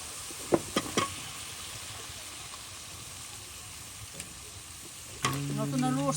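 Garlic and spices sizzle and fry in a pan with a soft, steady crackle. A few sharp knocks from stirring come early on, and a voice speaks near the end.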